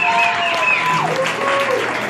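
A crowd claps for a musician at a church gathering, loud, continuous applause, with sustained tones, like singing or an organ, running beneath it.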